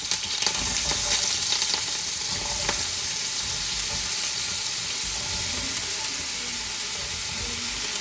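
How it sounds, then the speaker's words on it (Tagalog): Loud, continuous sizzling of potatoes frying in hot oil, a steady crackling hiss with occasional stirring sounds. "Para lang tayo nagpiprito ng regular patatas"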